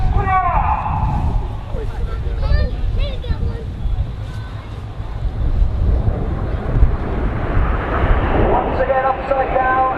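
Red Arrows jets performing a flying display at an air show give a loud, continuous roar of jet noise with wind buffeting. An announcer talks over it throughout.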